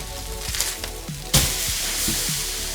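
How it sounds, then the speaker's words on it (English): Steak searing in a hot pan, a loud burst of sizzling erupting as the meat is flipped and then holding as a steady spitting hiss, with a few soft knocks just before. "Flip the steak."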